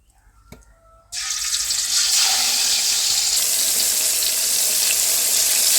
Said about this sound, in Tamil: எண்ணெய் காஞ்சிடுச்சு. மீன் சேர்த்துக்கலாம்.